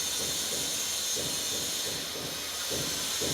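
Leftover chapati chitranna frying in a pan, a steady hiss and sizzle with soft rhythmic scraping as the mixture is stirred, close and continuous.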